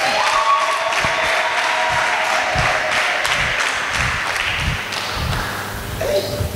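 A church congregation cheers and ululates during a service, with loud crowd noise and rhythmic claps and thumps over a few seconds and some voices mixed in.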